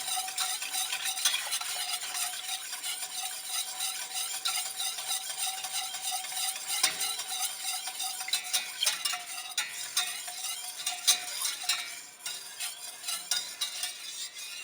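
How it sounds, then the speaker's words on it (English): A boiling marshmallow mixture for swan-shaped wedding cookie decorations is stirred steadily in a pot, giving a continuous close scraping and bubbling texture with occasional light clinks of the utensil, with no talking. "We're gonna mix while it boils."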